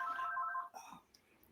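Telephone ring tone chirping in a rapid pulsed trill for well over half a second, fairly faint, then breaking off into brief muffled noises and quiet.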